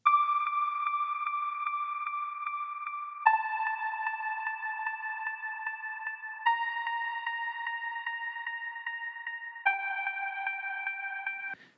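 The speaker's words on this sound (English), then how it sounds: "the melody throughout the whole track, is this other serum patch called electric guitar or elect guitar." A Serum synth patch named electric guitar plays a slow melody of four long sustained notes, each changing pitch about every three seconds, clean and steady with no talk.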